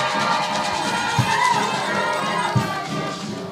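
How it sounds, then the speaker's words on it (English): A graduation and vice chancellor installation crowd at KAFU responds for the Vice Chancellor with a continuous wash of cheering and applause, a couple of louder thumps standing out. "A clap for the Vice Chancellor."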